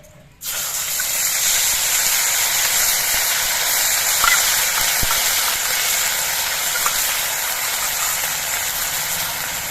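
A ground ginger and dried chilli paste drops into hot oil and erupts into a loud, sudden hiss that stays dense and steady for several seconds, close and unbroken.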